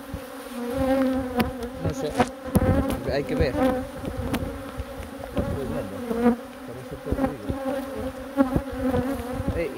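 Honey bees buzzing loudly and close at a beehive being readied for winter, a dense droning hum with shifting tones, while a person speaks briefly.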